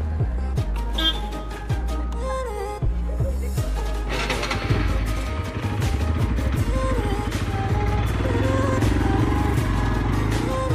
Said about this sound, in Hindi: इधर से बाइकिंग चल रहा है